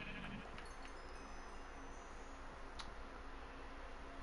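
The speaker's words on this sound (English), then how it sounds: "Hello, sheep." Sheep in the Minecraft video game give a faint, brief bleat early on, over a steady low in-game hum, with no talking.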